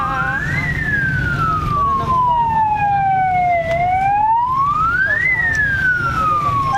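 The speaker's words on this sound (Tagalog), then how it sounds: "may dumadang ambulansya" An ambulance siren wails loudly along a street, its pitch sweeping slowly up and down in long rising and falling cycles over steady traffic rumble as the vehicle passes close by.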